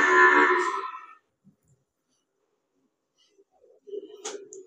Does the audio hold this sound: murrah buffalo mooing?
yes